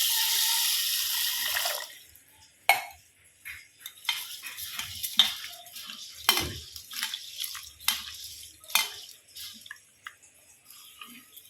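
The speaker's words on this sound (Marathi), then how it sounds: "आणि त्याच्यात टाकायचं आहे पाणी." Water pours into a pot of fenugreek seeds set to soak, a rushing stream for about two seconds, then scattered clinks, drips and stirring sounds, close and with no talk.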